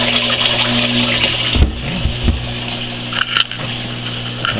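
Water drains steadily down into a bucket in a home aquaculture system, a continuous splashing trickle close by with a couple of brief bumps and gurgles partway through.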